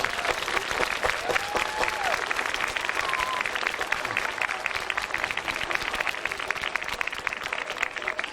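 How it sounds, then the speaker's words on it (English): Audience applause at a Veterans Day celebration honoring veterans, a steady dense round of clapping from a crowd that fills the whole stretch at even loudness, with a faint voice briefly audible beneath. "Can we give our veterans a round of applause right now?"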